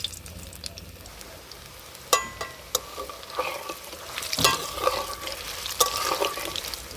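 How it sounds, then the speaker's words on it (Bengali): Drumstick flower pakoras fry in hot oil in a kadai, bubbling and sizzling steadily with sharp clicks and scrapes from a spatula turning them, close up, with no talking. "পকোড়াগুলোকে একটু লাল লাল করে ভেজে নিয়ে তারপরেই নামিয়ে নেব।"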